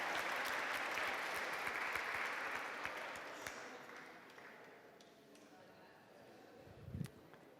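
An audience at a pain-policy symposium applauds as people walk on stage. The dense clapping is steady at first, then gradually thins and fades over several seconds, with a single dull thump near the end.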